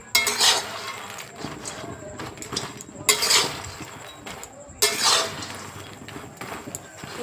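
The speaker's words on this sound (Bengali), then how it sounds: "বাটার দিয়ে পুরোটা মিশিয়ে নিচ্ছে মা" Fried fox nuts (makhana) are tossed with butter in a pan, with three loud bursts of rustling and scraping and lighter stirring between them, while someone talks over the mixing.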